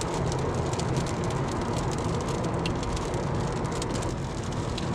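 Rain drums steadily on a car driving along a highway, a dense, continuous hiss with road noise underneath, loud and unbroken throughout.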